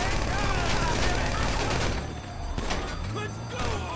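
Rapid gunfire crackles through a heist on Cayo Perico in GTA 5, dense bursts close and loud at first, then thinning into scattered shots while players talk over it.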